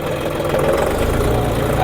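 A John Deere 5075E 75 HP tractor engine chugs steadily at low speed in low range, close and loud, with a rumbling idle throughout.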